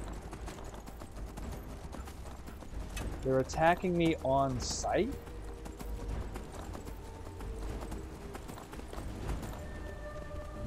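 Horse hooves clip-clop at a gallop in Skyrim, played on PS4, a steady rhythmic patter beneath a voice, with a brief burst of other voices and clashing game sounds in the middle.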